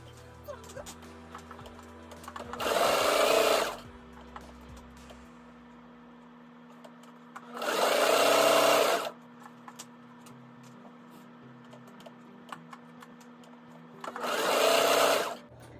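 A sewing machine stitches fabric pieces for a cottage-style scrap fabric pillow in three separate bursts, each about a second long, with quiet pauses between them.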